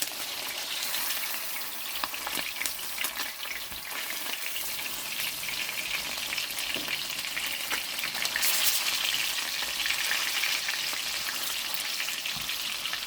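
Salmon pieces fry in oil with a steady, dense sizzle and crackle that fills the whole stretch at an even, close level, with faint spatters and stirring scrapes now and then and no voices.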